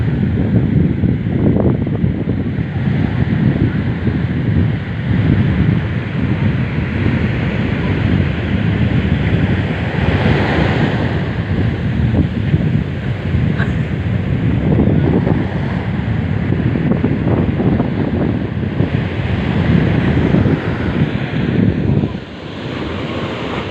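Ocean surf rolls in at Tondaligan beach, a loud continuous wash of breaking waves that swells and fades, heavily mixed with wind buffeting the microphone.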